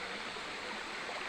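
A river rushes past at a junction where two streams meet in forest, a steady broadband wash of flowing water filling the whole moment without a break.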